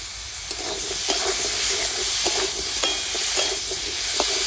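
Vegetables, green papaya among them, fry in a pan with salt, turmeric and ginger paste, giving a continuous close sizzle broken by regular scraping stirs about every half second to second.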